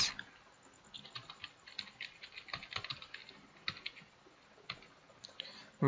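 Fingers tap quickly on a computer keyboard while filling in fields of an on-screen form, a close, quiet patter of irregular keystrokes with brief pauses and a louder click at the end.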